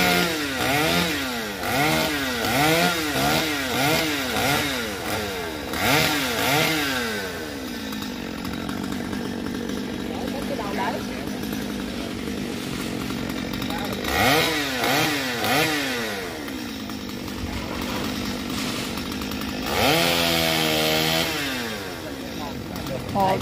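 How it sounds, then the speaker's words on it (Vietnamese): Chainsaw cutting wood while run by someone on a tractor, loud revving bursts that rise and fall in repeated cuts, with a lower idling stretch between them and people talking over parts of it. "Giờ chú lấy mai cày đã leo lên cưa luôn rồi."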